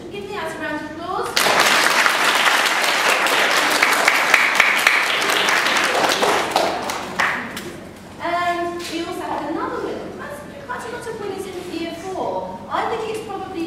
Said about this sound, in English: Give Niaz a round of applause.